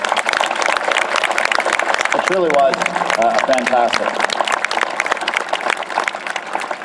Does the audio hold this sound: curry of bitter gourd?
no